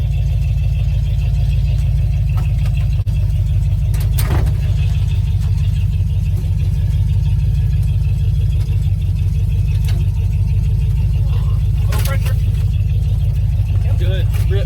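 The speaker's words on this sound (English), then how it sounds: "muscle car." A muscle car engine idles nearby in a loud, steady, throaty rumble that runs unbroken throughout, with a few faint knocks and voices talking now and then over it.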